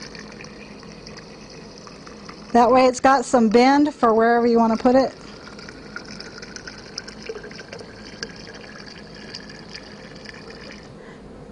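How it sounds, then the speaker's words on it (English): Water runs steadily into a hot water bottle, filling it about two-thirds full. The soft, continuous fill continues throughout, with a voice speaking briefly partway through. "So you're just going to fill your hot water bottle 2/3 full."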